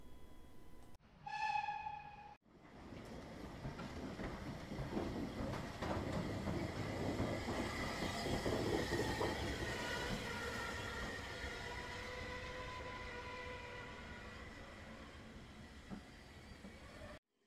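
Passenger train hauled by a 264 tank steam locomotive, a steady rolling rumble of wheels and carriages lasting most of the clip, preceded by a brief high whistle-like tone near the start, loud and close with no talking.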